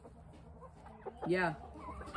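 Mille de Fleur and Barbu de Watermael bantam chickens cluck in a short burst near the middle, loud and close, with quieter low sounds around it and a single brief spoken word.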